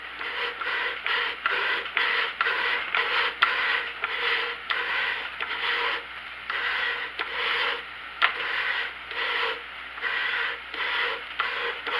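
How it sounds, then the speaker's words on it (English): Scope rings are lapped with a lapping bar and compound, producing a rhythmic gritty rasping as the bar is pushed back and forth in steady strokes, close and moderately loud with no talk. "I can push the lapping bar out a little bit, and I can apply a little more lapping compound if I need to"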